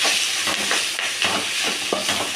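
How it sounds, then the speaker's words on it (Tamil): Drumstick chutney is stirred in a hot pan, a spatula making repeated scraping strokes over a steady, close hiss of sizzling. "நல்லா கிண்டிக்கலாம்"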